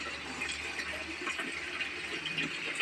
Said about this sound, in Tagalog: maglalagay po ako ng konting tubig lang